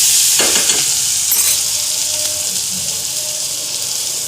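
Ground amla pickle mixture hits hot mustard oil and sizzles loudly, with a bright, hissing fry and stirring scrapes up close that ease gradually over a few seconds.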